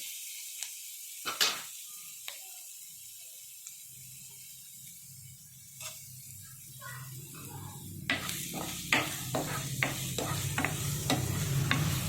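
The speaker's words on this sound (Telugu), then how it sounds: "ఒక 5 మినిట్స్ బాగా ఫ్రై అవ్వాలి." Black-eyed peas fry with salt in a pan for a curry, a soft sizzle under sparse stirring scrapes that turn into quicker, louder spoon clatter toward the end, with no voices.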